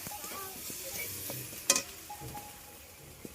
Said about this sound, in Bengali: একটু নাড়তে থাকতে হবে।